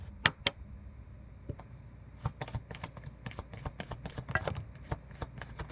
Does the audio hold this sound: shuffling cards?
yes